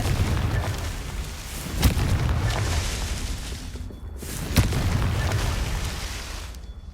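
Confringo fire spell explosions in Hogwarts Legacy boom in a dense rumbling wash, with two sharp cracking blasts standing out about three seconds apart over constant low roar.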